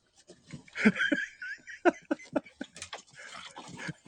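Dogs wrestling indoors, with soft whimpers, yelps and panting mixed into scuffling, fairly close and broken into short irregular bursts.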